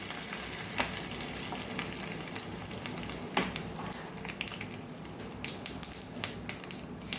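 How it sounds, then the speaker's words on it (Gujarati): Mustard seeds, cumin and white sesame with curry leaves and asafoetida sizzle and pop in hot oil for a dhokla tempering, a steady frying hiss broken by sharp crackles and seed pops, close and continuous with no talk. "રાઈ, જીરું અને તલને સરસ ફૂટી જાય એટલે ઢોકળા ઉપર આપણે વઘારને ઉમેરી દેવાનો છે."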